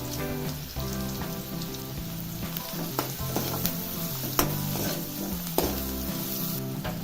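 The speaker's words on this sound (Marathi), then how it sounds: "आता कांदा चांगला भाजून घ्यायचा आहे" Onions frying in a pan for a dry raw jackfruit curry, a steady close sizzle with scattered crackles and a few sharper pops, while steady harmonic music plays underneath throughout.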